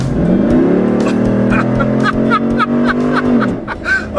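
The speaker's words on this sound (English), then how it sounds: "First time flooring it. Here I go." A 2013 Jeep Wrangler SRT with a 6.4L HEMI engine is floored at full throttle while four-wheeling, giving a loud, close, sustained roar that climbs in pitch for several seconds before easing off, with brief laughter over it.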